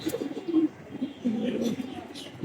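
Pigeons coo softly in low, rolling calls nearby, with a person talking at the same time.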